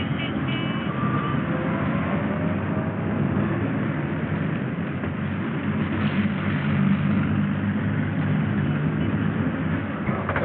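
A steady, continuous rumble of a train in motion, with low mechanical droning that holds constant throughout and no voices.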